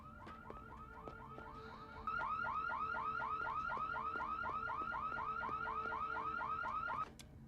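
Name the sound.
car alarm going off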